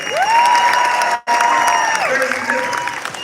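Audience applause at a community sports complex opening in Los Angeles, dense continuous clapping with a sustained tone over it and a brief cut partway through.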